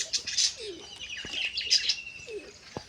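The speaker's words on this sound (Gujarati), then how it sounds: "અહીંયા કાળા કબૂતર ને ઉડા કબૂતર" Pigeons, black and other kinds, kept with their young, call with short chirps and soft calls over a steady background, fairly close and moderately loud with no talk.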